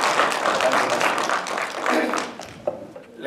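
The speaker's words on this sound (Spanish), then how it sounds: "lo recibimos con un fuerte aplauso al doctor Javier López Sánchez" Applause in a chamber of the Mexican Congress greets a representative from Chiapas: a broad wash of clapping from many people with voices mixed in, fading and thinning toward the end.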